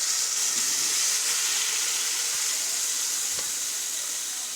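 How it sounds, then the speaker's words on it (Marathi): Carrot halwa mixture, tipped from a pressure cooker into a pan of hot ghee, gives off a loud, steady, close-up sizzling hiss that fades slightly over the few seconds. "जे मिश्रण कुकरमध्ये आपलं आहे ते या पॅनमध्ये टाकून घ्यायचं आहे"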